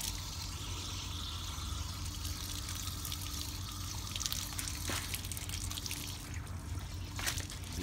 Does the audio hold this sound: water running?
yes